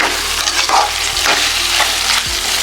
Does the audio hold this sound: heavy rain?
no